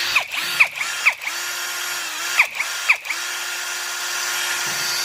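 Nagawa cordless drill whirring in short bursts, the motor spinning up and winding down several times with ratcheting clicks, close by.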